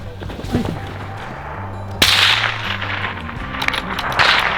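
At an NRL Hunter style rifle match, a single sharp rifle shot cracks nearby over low outdoor rumble and wind noise, with a brief ringing trail from a steel target.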